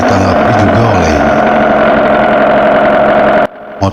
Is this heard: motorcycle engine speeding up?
yes